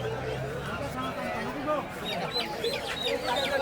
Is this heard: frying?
no